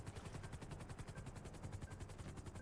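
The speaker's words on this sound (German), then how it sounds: "Das ist ein Heli." Video game helicopter, a faint, steady rapid rotor chop pulsing evenly throughout with a low mechanical drone underneath.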